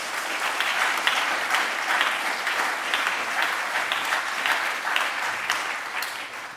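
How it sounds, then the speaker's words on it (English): A large meeting audience claps steadily and loudly in sustained, dense applause, the rolling patter continuing at full strength without pause for several seconds. "Give Pradeep a round of applause."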